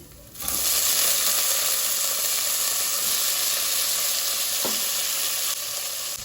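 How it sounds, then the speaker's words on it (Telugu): Brinjal pieces hit hot oil in a pan for Karnataka-style vangibath, setting off a loud, steady sizzle that holds evenly throughout, with a brief utensil scrape midway. "ఇప్పుడు ఈ వంకాయలు ఇందులో వేసుకోవాలి"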